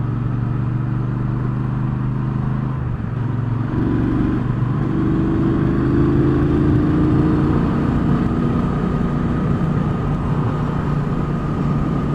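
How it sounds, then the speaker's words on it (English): A 2019 Triumph Speedmaster motorcycle engine pulling hard in fifth gear toward the redline, a loud, steady, close drone with rising pitch and wind rush on the open road. "Fifth gear, and it's still got a load of energy, red lining, ready to go."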